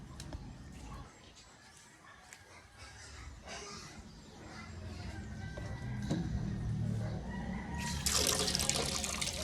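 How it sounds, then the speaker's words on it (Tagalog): Running water pours steadily into a container, the flow rising and brightening toward the end as it fills, heard alone and fairly faint. "Nagpundo ko tag tubig."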